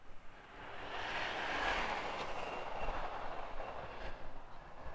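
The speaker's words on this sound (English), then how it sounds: "end of the stainless steel Rimmer's exhaust. I really like that. Sounds good, looks good." A 1964 Triumph Herald engine runs through a stainless steel Rimmer's exhaust, making a steady, broad rumbling roar that swells and eases close by, with no voices over it.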